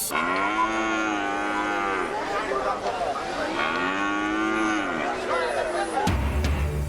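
Several cattle moo in long, drawn-out calls, one after another, loud and close, at a busy Eid livestock market in Bangladesh, with a sudden thump at the end.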